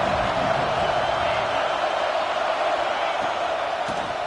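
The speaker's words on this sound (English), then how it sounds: "This crowd ready to make its presence known." A football stadium crowd roars continuously in a Tennessee football video game, a dense, loud wash of cheering and noise with no break across the whole stretch.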